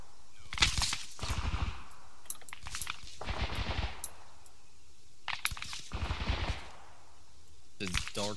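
Video-game machine-gun and rifle fire crackles in scattered bursts, some close and sharp, others more distant, heard over a narrow, radio-like channel and mixed with a voice speaking.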